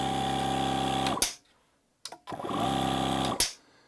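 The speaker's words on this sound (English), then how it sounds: "you can hear the relay in there click on, and then the motor turns on" A Milwaukee M18 air compressor running on wall power starts with a sharp relay click and the motor kicking on, then hums steadily with a tonal drone. It is cut off abruptly, goes quiet, then clicks and restarts before stopping again.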